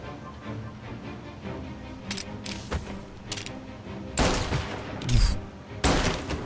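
Several sharp revolver gunshots in the video game Mafia: Definitive Edition crack out at irregular intervals, a few single shots and then louder ones, over a faint background hum.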